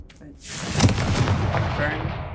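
A fiery blast from the Confringo spell in Hogwarts Legacy, aimed at spiders: a sharp boom that swells into a rolling, crackling roar and fades slowly, with a voice heard briefly over it.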